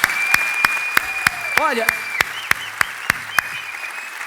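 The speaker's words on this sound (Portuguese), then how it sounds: "Vamos dar uma salva de palmas para essas pessoas, mas bem forte." An audience at a church service claps for the volunteers in sharp, evenly spaced beats, loud and close, with a steady whistling tone and a voice under it.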